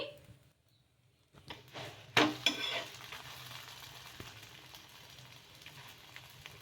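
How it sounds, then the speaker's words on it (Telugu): A rice flour paratha fries in a little oil on a pan, starting with a sharp clatter and burst of sizzle, then a steady crackling hiss that gradually quiets. "ఇలా ఈ విధంగా కొంచెం నూనె అయితే వేసుకొని రెండు సైడ్ల బాగా కాల్చుకోవాలి"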